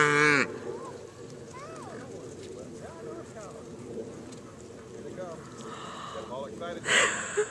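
Cows at a farm fence in Tennessee give a few moos and low calls under steady nearby chatter, with birds chirping in the background and a brief louder burst near the end.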